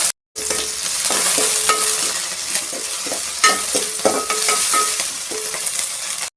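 Green chillies and curry leaves frying in hot oil as a paneer biryani base, a steady bright sizzle broken by repeated scraping stirs of a spoon against the pan, close and continuous with no talking.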